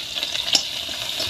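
Soybeans frying with chili in a pan, a close steady hiss of sizzling oil with a brief stir or clatter in the middle.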